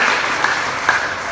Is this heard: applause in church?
yes